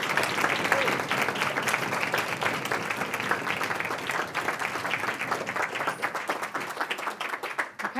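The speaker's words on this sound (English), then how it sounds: "Big round of applause for all of you." Audience applause at the close of an evening community-organizing session, a steady wash of many hands clapping that holds fairly even for the whole stretch and only thins slightly at the very end, with no talk over it.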